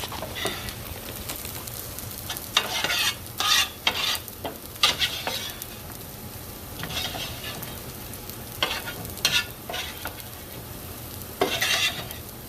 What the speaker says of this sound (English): I'm going to saute my potatoes, saute that with peppers and onions also.